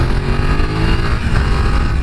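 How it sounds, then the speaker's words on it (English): A 2020 BMW F900R twin-cylinder motorcycle engine accelerates under load on the road after a downshift. Its loud, close, steady engine roar and exhaust note run throughout with no speech. "a lovely note to this twin cylinder engine, and it accelerates really nicely"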